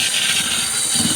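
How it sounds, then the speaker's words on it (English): A small homemade mixer paddle chucked in a power drill churns mud at a steady, continuous whir, close and fairly loud, with a rough broadband texture throughout. "Just a little bitty mixer. I made it to work on this drill."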